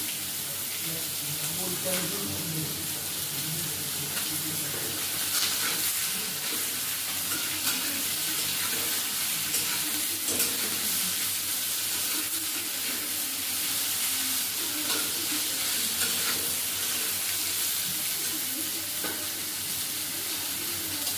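Chopped potatoes fry in a tempering of bay leaf, dried red chilli, cumin and radhuni, giving a continuous close sizzle with occasional stirring scrapes over about twenty seconds.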